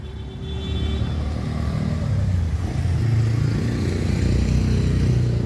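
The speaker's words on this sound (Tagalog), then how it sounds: "Ayan, ang daming tricycle dito" Tricycles lined up on a street at night behind a tower in a barangay, giving a steady, close engine rumble and idling drone that builds slightly partway through, with no voices.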